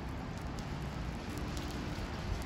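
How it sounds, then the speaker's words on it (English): Dense, steady patter of hailstones striking surfaces outdoors during a severe thunderstorm with high winds in the San Francisco Bay Area, a continuous crackling hiss with scattered sharper ticks. "There's like some hailstones falling."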